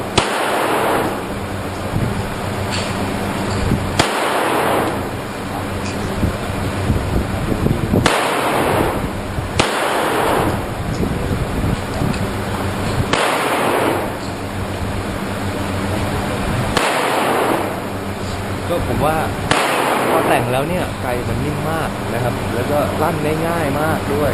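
About six sharp gunshots fired at a shooting target, spaced several seconds apart, each a loud crack with a brief echoing tail over a constant hum, while voices talk between the shots.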